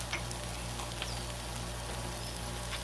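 Trader Joe's frozen onions and peppers sizzling on a Blackstone griddle, a steady close crackle and hiss throughout with faint pops and no talking.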